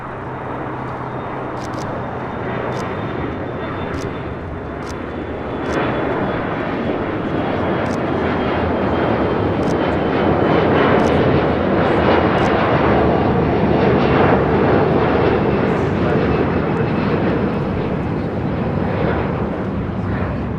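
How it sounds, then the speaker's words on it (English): A 34-year-old Boeing 737-400 departs LAX for Nashville, its jet engines building into a loud, sustained roar that swells after the first few seconds and stays strong, with faint clicks over the top and no talking. "This is Aero Airways 9804 taking off to Nashville on a 737-400."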